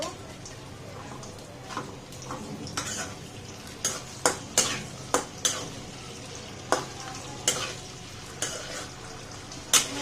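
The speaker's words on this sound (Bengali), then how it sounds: "তো এটাকে আমি নেড়ে দিব।" Food being turned in a hot pan on a home stove gives a low sizzle punctuated by a dozen or so distinct scraping stir strokes, with faint voices in the background.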